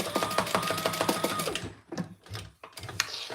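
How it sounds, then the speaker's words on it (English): A sewing machine runs a quick burst of basting stitches across the bottom of a crossbody bag, a loud rapid mechanical chatter that stops abruptly, then a few softer clicks and handling noises. "I'm just going to baste across the bottom. Just a couple little stitches"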